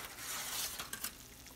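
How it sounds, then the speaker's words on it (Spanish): Salmon with vegetables and rice cooking in a pan gives a soft, steady sizzle and gentle bubbling, faint and close, with a few light clinks of a utensil against the pan. "Ahí todavía se escucha el ruidito de que está como que hirviendo."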